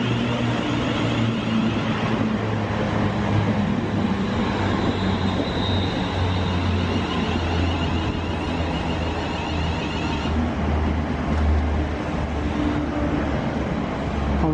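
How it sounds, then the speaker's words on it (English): Continuous rumble of a passenger train at a station on the way to Bedford, with a steady low drone and a high electrical whine that fades partway through, close and loud with no talking. "here's our first train, which will take us as far as Bedford"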